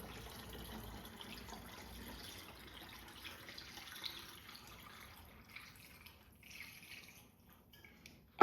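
Water pours into a gallon jug as it is filled quart by quart, a steady, fairly quiet splashing and trickle with a faint brighter gurgle near the end.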